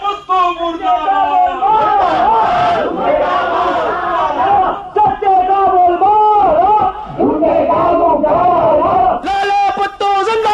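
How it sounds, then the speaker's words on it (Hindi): A procession crowd in a radio play chants slogans in unison, loud and close. Rhythmic shouted calls repeat over and over with a few brief pauses between them. "क्या जमाना आ गया है, जो चोर है उसका भी जुलूस निकाल रहे हैं।"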